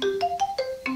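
A synthetic phone ringtone from the horror game Saiko No Sutoka plays a quick run of stepped electronic beeps at different pitches, loud and clear with no talk.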